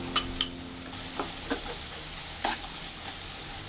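Onions frying with curry leaves and salt in a pan for kappa biriyani: a steady broadband sizzle with several sharp spoon clinks and scrapes from stirring, close and clear with no talking.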